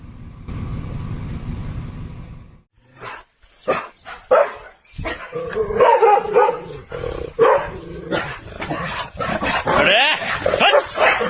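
A dog barks repeatedly and sharply, loud and close, mixed with yips and whines over outdoor background noise.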